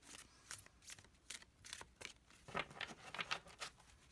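Soft, quiet shuffling of cards, a series of light riffling and slapping sounds in irregular rhythm, close by.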